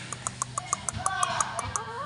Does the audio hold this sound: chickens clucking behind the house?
yes